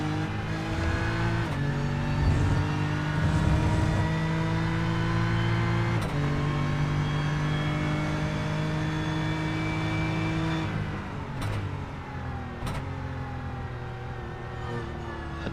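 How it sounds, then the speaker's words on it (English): Race cars on the Silverstone circuit during a 4-hour endurance race, an LMP3 prototype passing a BMW M4, heard as a loud, steady onboard engine drone that shifts pitch through gear changes, with brief sharp transients as the prototype closes and goes by. "Another LMP3 right behind you now, so probably try to pass you here."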